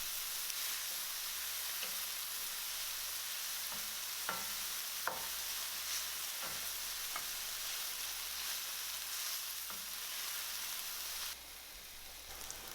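Fried rice with broccoli slaw and about three tablespoons of green seasoning being stirred in a hot pan, a steady sizzling hiss broken by a handful of sharp scrapes and clinks from the spatula at irregular intervals.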